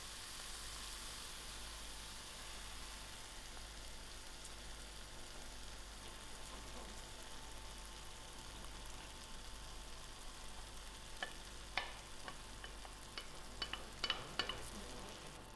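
Beaten eggs poured over herbs for a spicy spinach omelette hiss and sizzle steadily in a hot pan, a soft continuous frying wash with a cluster of sharper pops and crackles near the end.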